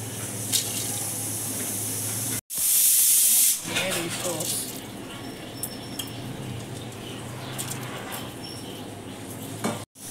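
Water poured into a pot of rice and vegetables for khichuri, a loud close rush of water with hissing and clinking pot sounds, amid light background noise.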